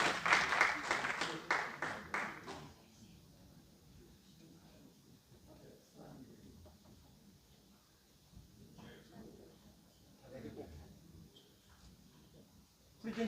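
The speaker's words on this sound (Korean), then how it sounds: "위원장님 나오실 때 큰 박수 부탁드리겠습니다." A burst of audience applause at a political lecture event in Jeju rings out loudly for a couple of seconds, then fades into a low murmur of voices and room noise.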